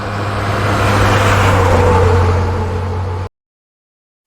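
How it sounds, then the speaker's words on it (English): A car engine drones steadily while driving, with a constant low hum and road roar that swell slightly and then cut off abruptly into silence. "I am driving."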